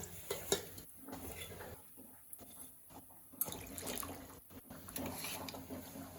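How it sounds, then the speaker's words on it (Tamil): Water poured over greens (keerai) in a home kitchen, faint splashing and trickling in uneven bursts with brief pauses, quiet and close, without talk. "இப்போ இந்த கீரையை ஊற்றி நல்லா அலசி ஊற்றிடலாம்"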